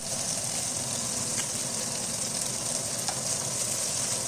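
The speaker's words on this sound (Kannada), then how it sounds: "ಈ ಥರ ಹೊಳಿಸಿ ಅದನ್ನು ಫ್ರೈ ಮಾಡ್ಕೋಬೇಕು" Crispy fish sizzles and crackles steadily in hot oil, a dense continuous frying hiss with a few brief pops, close and alone with no voices.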